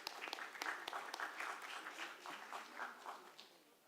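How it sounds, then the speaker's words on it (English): Audience applause at an engineering and architecture event, a thin, uneven scattering of individual claps from a modest crowd, tapering off toward the end. "Can we have a big round of applause?"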